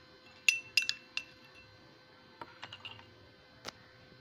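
A spoon clinks and taps against a cup while coffee is stirred with milk, a few quick bright chinks close by in a quiet kitchen, then scattered lighter taps.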